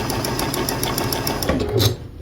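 A sewing machine stitches across quilt block pieces, a rapid steady mechanical chatter up close that slows briefly and stops near the end.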